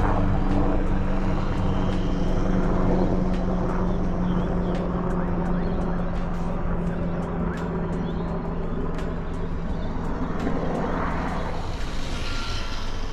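Firebird RC plane from Dancing Wings on a maiden flight, its propeller motor buzzing steadily as it flies low, with a constant whine rising and falling slightly as it passes, heard outdoors.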